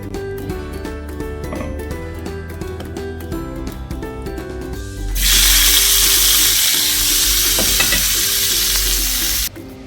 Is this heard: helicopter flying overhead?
no